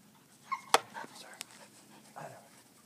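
A border collie lets out short whimpers and yips between breaths at close range, in brief bursts, while a person speaks softly nearby.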